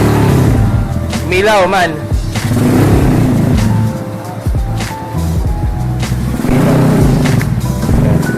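Yamaha YBR 125 with a bullet pipe exhaust running loud and close, engine note rising and shifting through revs, with someone talking over it.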